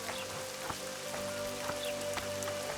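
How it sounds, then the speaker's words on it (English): Steady rain falls in The Witcher 2 video game, a dense, even patter of drops on surfaces with occasional louder splashes over a low sustained hum, with no talking. "It's really raining now."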